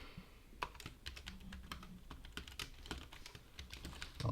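Steady, rapid keystrokes on a computer keyboard during a live coding session writing Drupal tests, close and clear with irregular bursts of clicks and no talking.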